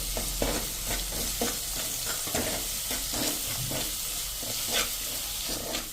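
Spices with turmeric and salt sauté on a slow flame with a continuous close hiss and sizzle, overlaid by a rhythmic series of stirring scrapes.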